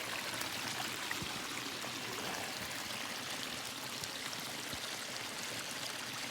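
Small creek running full after heavy rain on sodden ground, a steady, close broadband rush and trickle of flowing water that continues throughout without pause.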